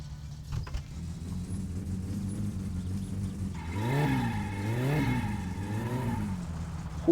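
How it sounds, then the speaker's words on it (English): Engine whir from a car in the game My Summer Car, wheels spinning in reverse: a steady drone that swells and falls in pitch twice as the wheels rev up, with no talking over it. "Holy fucking wheel spinning in reverse."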